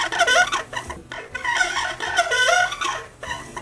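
A How to Train Your Dragon Crimson Goregutter toy plays its electronic creature sound, a series of loud, squawking, clucking calls in repeated bursts with no one talking.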